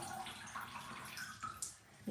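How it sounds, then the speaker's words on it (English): Water trickles and drips softly from a wet marbled silk scarf into a bathtub, a faint, close, irregular patter with a slightly louder splash near the end. "The other scarf is gently dripping into the bathtub."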